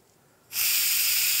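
Steam bursts out of a pressure cooker valve while ribs cook, starting suddenly after a short quiet moment and continuing as a loud, steady, close hiss.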